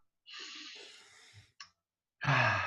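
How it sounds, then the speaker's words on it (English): A single deep breath, drawn in and then let out as a long, audible sigh, close to the mic with a short pause between, no talking. "take a deep breath."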